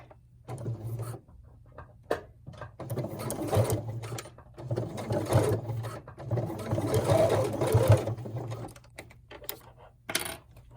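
A sewing machine stitches fabric for a face mask in bursts of fast, steady mechanical whirring with brief pauses between runs, close and clear with no talking.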